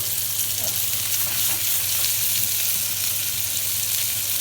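Monkfish liver sizzling in a hot pan beside toasted bread, a steady loud frying hiss with crackle that continues unbroken, no talking over it.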